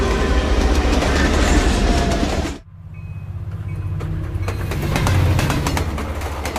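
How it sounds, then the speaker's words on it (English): A passenger train rolls through the Canadian Rockies with a loud, continuous roar and clickety-clack that drops suddenly, as if the sound moves from outside to inside, then continues as a lower rumble of wheels on rails. "Breakfast is being served as the train rolls east through the Canadian Rockies."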